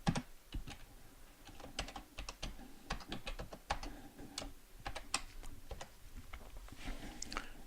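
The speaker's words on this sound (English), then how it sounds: "I'm going to type in my password." Rapid, quiet clicking of a computer keyboard as a password is typed, keystrokes coming in irregular bursts close by with no voices.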